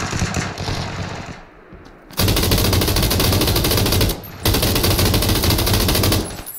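A machine gun fires with heavy recoil in PUBG, unleashing two long, loud, continuous bursts of rapid automatic fire separated by a short pause, after quieter background game sounds at the start.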